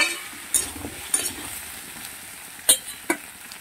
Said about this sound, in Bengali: এবার আলুর সঙ্গে ঝিঙেটাকেও ভালো করে ভাজতে হবে।